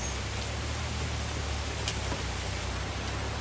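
Heavy rain pouring down continuously, a thick uniform wash of noise with a few faint drip taps near the surface, no voices.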